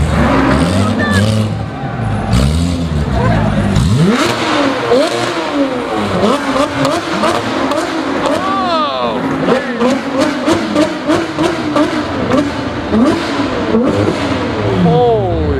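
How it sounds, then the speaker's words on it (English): Straight-piped Porsche GT3 RS engine revving hard at a supercar rally, sharp rising and falling pitch sweeps repeating close by, with crowd talk and other cars underneath. "We got GT3 RS, straight pipes."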